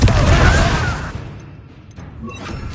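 A Confringo explosive spell blast in Hogwarts Legacy, a loud booming burst at the start that fades into a decaying rumble, followed by faint scattered game effects.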